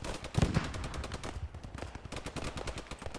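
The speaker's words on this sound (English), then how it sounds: "I just got machine gun coming from the north." Machine gun fire in the WWII shooter Post Scriptum, rapid rattling bursts of automatic shots in quick succession, moderately distant and with no talk.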